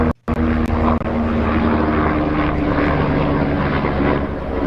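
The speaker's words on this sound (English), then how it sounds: "I think the airplane noise is what piqued their ears." A propeller airplane flies overhead, its engine drone loud and steady after a brief cutout at the start, holding a sustained rumbling hum from start to finish.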